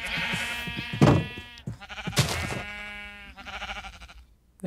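Sheep in Minecraft bleat two or three times, loud and close, each call a wavering, nasal baa with a long sustained tail, separated by brief pauses.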